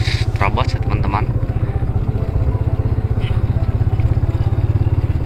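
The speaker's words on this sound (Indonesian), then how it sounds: "Selagi di bekas jalurnya bisa dilewati oleh motor, saya akan coba terus terabas ya" A motorcycle rides along the disused Pangandaran railway line, its engine putting out a steady, close, pulsing drone for the whole stretch, with a brief burst of talk near the start.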